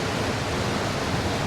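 Steady broadband rush of creek water flowing under a light breeze in the Dominguez-Escalante canyon country, continuous and fairly close with no distinct events.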